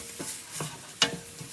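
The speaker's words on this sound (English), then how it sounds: "Now we'll add in our spices. Get those all stirred around in there." Spices stirred into browning onions in a pan, a few soft scraping strokes of a spoon over a light sizzle, with one sharper clink near the end.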